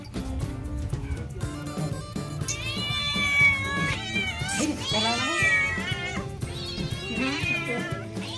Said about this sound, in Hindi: ये देखो मेरे घर की बिल्लियाँ प्रसाद के लिए कैसे कर रही है।